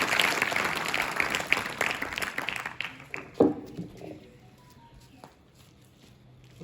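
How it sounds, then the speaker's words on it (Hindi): Audience applause welcoming a speaker at a school farewell, dense clapping that thins out into scattered claps and a loud knock, then fades into quiet room noise. "ये बात तालियों के साथ सर का स्वागत"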